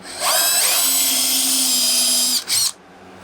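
A power drill whines steadily at high pitch for about two seconds while drilling a pilot hole in wood, stops briefly, then gives one short final burst before cutting off.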